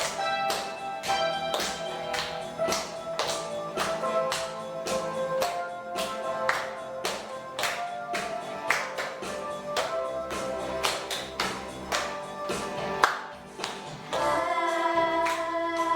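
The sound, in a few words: children clapping hands while singing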